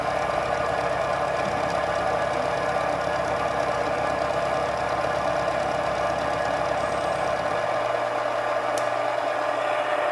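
A milling machine cuts metal with a carbide cutter during a slotting and pocketing job, giving a continuous loud mechanical whir and grinding hum that drops into a lower, quieter tone near the end.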